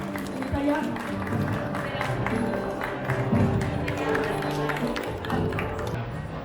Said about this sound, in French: On peut les applaudir pour les accompagner.